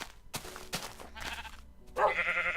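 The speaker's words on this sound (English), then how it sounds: "That sheep is trapped in the tree." Sheep bleating in the Minecraft video game, several short loud bleats in quick succession, the last one longer and wavering, with no talking over them.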